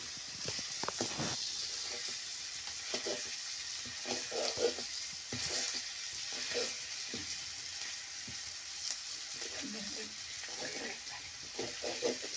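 Green chillies fry in hot oil in a home kitchen with a continuous crackling sizzle, interrupted by frequent clattering stirs of a spatula against the pan, heard up close.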